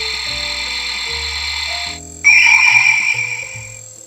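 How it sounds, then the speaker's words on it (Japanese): Shin Kamen Rider DX Typhoon transformer belt toy plays its electronic transformation effect: layered synthetic tones and buzzing that break off briefly, then a loud bright chime-like burst that slowly fades, close and with no talking. "咁而家咧就應該係變身嘅音效嚟嘅"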